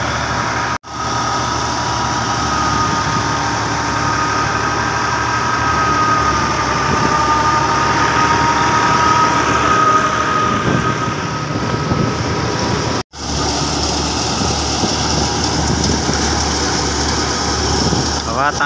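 An Al-Ghazi tractor engine runs steadily close by, a continuous droning rumble with a faint whine, briefly cut twice, while people talk over it.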